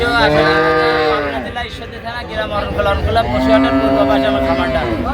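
Jersey dairy cows on a farm moo loudly and close, with long drawn-out calls one after another, and faint voices murmur in the background.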